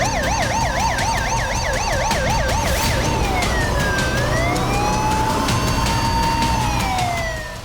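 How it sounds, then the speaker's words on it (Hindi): Loud wailing police and ambulance sirens close by on a city street, one rapidly warbling and another sweeping slowly up and down, over a constant rumble of traffic. "शहर और सड़क पर पुलिस और एम्बुलेंस के सायरन का"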